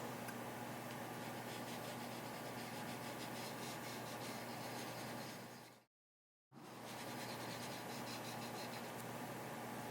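A colored pencil rubs in small circles on paper during blending, a faint, soft, continuous scratchy hiss that stops for a brief gap partway through and then resumes.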